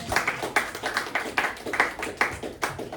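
Church congregation clapping together during a worship service in Le Moule, a steady rhythmic beat of many hands, moderately loud and close, with no talking over it.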